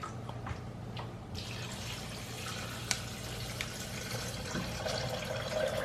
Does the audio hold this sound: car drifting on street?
no